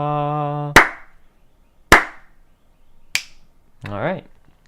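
Three sharp, loud hand claps sound at roughly even intervals as part of a rhythm exercise, each with a short decay into silence, between a held sung tone before them and a brief voice after.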